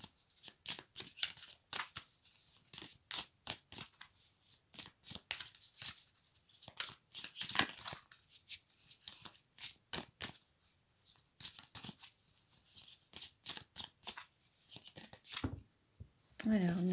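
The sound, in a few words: oracle cards being shuffled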